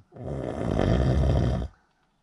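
A voice imitating snoring: one long, loud, rasping, guttural snore drawn out for over a second and a half, close to the microphone, then cut off into silence.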